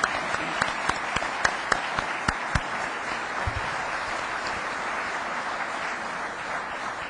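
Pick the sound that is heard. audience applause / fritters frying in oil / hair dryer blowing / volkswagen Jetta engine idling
audience applause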